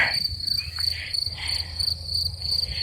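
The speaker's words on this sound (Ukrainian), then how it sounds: "А цвіркуни ж цвірчать." Crickets chirp steadily in a high, continuous trill in a field of flowers, with faint low background rumble and no voices.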